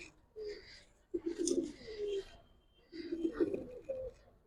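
Giribaz pigeons, a black-throated female among them, coo in several rounded, throaty phrases separated by brief pauses, close and clear, with faint voices mixed in.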